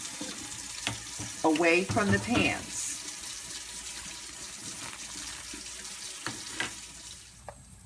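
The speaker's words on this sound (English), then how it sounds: "I run my scraper and brush under hot water only" Hot water runs steadily from a tap over a scraper and brush used for cast iron pans, a continuous splashing hiss lasting throughout, with a brief spoken phrase near the start.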